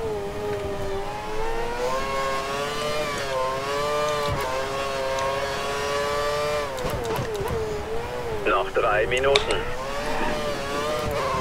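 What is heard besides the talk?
Formula 1 race car driving in video game F1 2013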